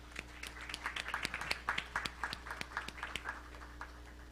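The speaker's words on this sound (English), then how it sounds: "Another big applause for Ana Luisa." An audience at a legal tech startup event gives a speaker a round of scattered applause, individual claps sounding soft and somewhat distant over a low steady hum.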